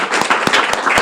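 Audience applause at a ceremony handing out school kits to children with disabilities: a short burst of scattered, close hand claps in an irregular rhythm.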